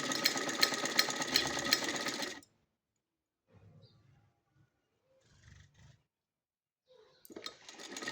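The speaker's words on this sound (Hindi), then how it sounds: "हम इस तरह से इस पर सिलाई करेंगे।" Electric sewing machine stitching cloth for a baby cap, a loud rapid run of stitches, then near silence with faint handling noises, before the machine starts again.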